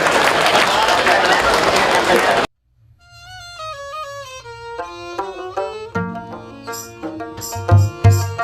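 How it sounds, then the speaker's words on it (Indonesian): Applause from a crowd at the Banjarmasin 497th anniversary celebration follows the Parade Tari Kreasi Banua dance parade, a dense burst of clapping lasting a couple of seconds before it cuts off and music takes over. "Sekali lagi boleh kita berikan tepuk tangan yang paling meriah untuk Parade Tari Kreasi Banua."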